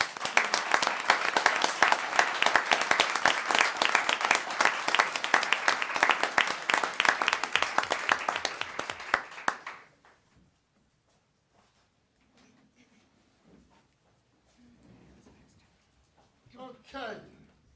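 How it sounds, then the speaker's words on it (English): An audience claps in dense, loud applause for about ten seconds, then it stops abruptly, leaving a quiet room with faint movement and a voice near the end. "let's give all of them a round of applause"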